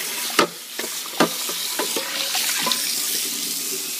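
A hot pan straight off the stove meets running water in a sink, bursting into a loud hissing sizzle with clanks and splashes, then settling into steady flowing water, close and without talk.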